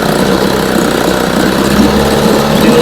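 An outboard motor runs loud and steady at close range, a continuous buzzing engine drone with no talking over it.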